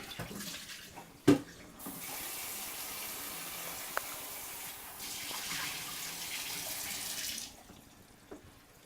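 Water from a small bucket is emptied into a utility slop sink drain during a garbage disposal installation, gushing and splashing steadily for several seconds before trailing off, close and fairly quiet, with no talking.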